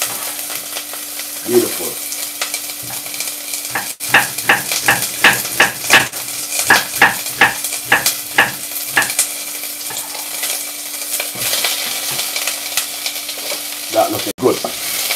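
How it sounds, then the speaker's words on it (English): Red onion fries hot in a pan with a constant loud sizzle, broken by a run of regular scraping and stirring strokes in the middle. A voice speaks briefly. "I'll let that red onion fry up very hot and nice."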